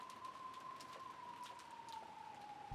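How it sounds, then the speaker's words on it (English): Steady rain hiss from the visual novel Umineko, a continuous even wash with a faint sustained tone running through it, quiet and unbroken. "I can't stand this rain."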